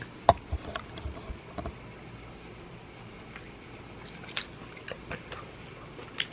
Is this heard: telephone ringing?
no